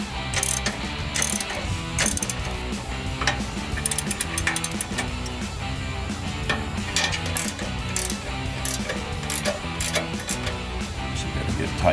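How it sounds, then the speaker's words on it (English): A ratcheting wrench tightens a nut on the bracket of a RedRock HD rear bumper being fitted to a Jeep Gladiator JT. Rapid, close, mechanical clicking runs steadily for the whole stretch with brief pauses between pulls. "then you're going to put your socket and you're going to tighten."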